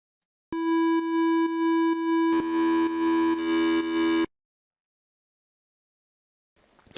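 Ableton Operator synth tones switched on one by one: a pure sine pulse repeats in steady on-off bursts, then grows brighter and buzzier as more oscillators join, before stopping abruptly into silence.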